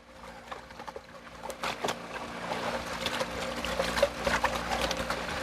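Water and muddy material sloshing and swirling in a gold pan as it is shaken, a steady wet swishing with splashy bursts, close and alone.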